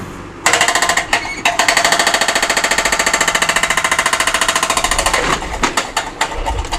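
A rock drill hammers into flint at a quarry, a loud, rapid and steady percussive chatter that runs continuously for several seconds before stopping, with a few irregular knocks at the end.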